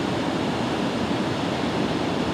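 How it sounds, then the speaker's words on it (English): Spring water rushes steadily at Idaho's Island of 1,000 Springs, a dense, even, close wash of flowing water with no pauses and no voices. "So that water flowing now has been underground for 200 years."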